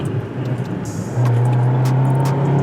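A Honda Civic engine pulling hard at full throttle in second gear, a steady close drone that jumps louder and holds a strong even tone after a brief softer start, with no voices.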